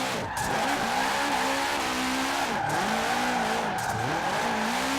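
A drift-built 2005 Subaru WRX STI slides through a sweeping corner in Forza Horizon 4. Its tires squeal steadily and its engine drones and revs, with the pitch wavering and dipping a few times.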